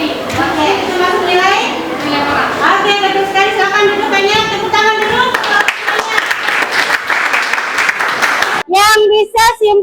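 Secondary-school students in a classroom break into applause, a dense patter of clapping that follows a stretch of teacher and student voices and ends with more talking.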